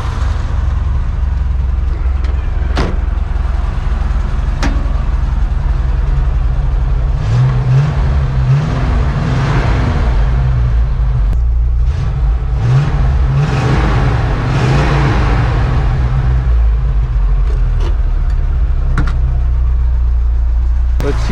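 A 1959 Chevy Apache Napco 4x4 pickup engine running steadily, close and loud, rising in a couple of revs with occasional sharp pops scattered through the rumble.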